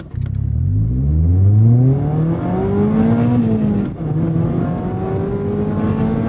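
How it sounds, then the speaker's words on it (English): A small four-cylinder engine in a track-prepped 2025 ND3 Mazda Miata Club revs up smoothly, its pitch climbing, dipping briefly, then holding a high, buzzing drone, loud and close. "Such a smooth and rev-happy little 4-cylinder."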